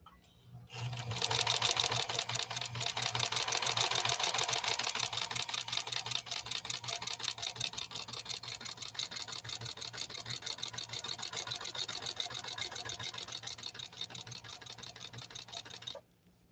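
Janome 731 sewing machine running steadily on a comb-like decorative stitch with a universal needle, a fast even mechanical rattle close up, alone for about fifteen seconds before stopping.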